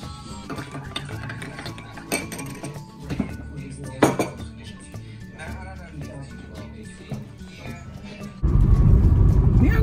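A spoon clinks and scrapes against a metal cooking pot while food is stirred, with busy irregular clatter and background household noise, ending in a louder steady rumble.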